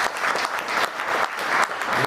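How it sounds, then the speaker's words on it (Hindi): Audience at a stage play gives steady applause, dense clapping throughout with no voices over it. "जोरदार तालियों से इन सभी का स्वागत करें।"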